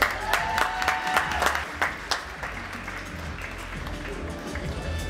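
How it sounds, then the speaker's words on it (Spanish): At the Señorita Cenicienta de Ensenada pageant, an audience claps for a finalist. A few sharp, distinct claps at first thicken into a sustained, moderately loud round of applause. "con un fuerte aplauso de todos ustedes"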